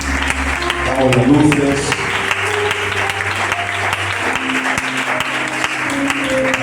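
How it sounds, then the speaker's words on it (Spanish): A church congregation gives loud sustained applause, a dense steady roar of clapping close by, with a voice speaking over it and faint music underneath. "Damos un fuerte aplauso al Señor."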